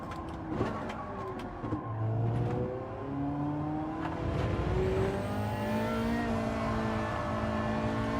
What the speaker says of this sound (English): I can hear the front tires squealing.